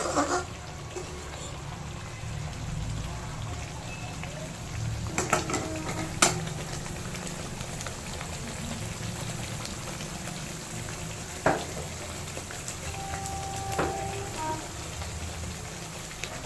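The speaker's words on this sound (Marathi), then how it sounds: "बघा मस्त मसाला शिजतो आहे" A masala spice paste cooks in oil in a pan for a dal karela dish, giving a soft, steady sizzle. Faint stirring and an occasional light clink of utensils sit over it, all fairly quiet.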